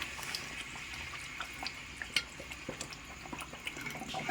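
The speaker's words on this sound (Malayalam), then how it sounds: "ഈ ഒരു പരിവാവുന്ന സമയത്ത് നമുക്കിതിലേക്ക് ഒന്നാം പാല് ഒഴിച്ചു കൊടുക്കാം" First-press coconut milk being poured into coconut-flower lehyam cooking in a pan, giving a steady liquid splash with scattered bubbling ticks and small sputters, close and moderately loud, with no talking.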